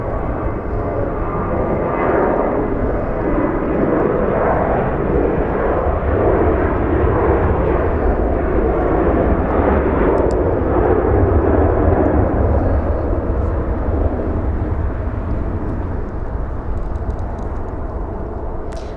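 A WestJet airliner departing Los Angeles International Airport for Calgary gives a loud, sustained jet roar that holds steady and close throughout, with no talking.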